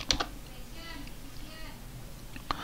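Typing of apt commands on a computer keyboard while setting up an Ubuntu 20.04.1 router and DHCP server: a few quick clicks at the start and one more near the end, with a voice talking softly in the background.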